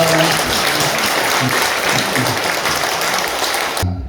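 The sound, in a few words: applause at a church installation ceremony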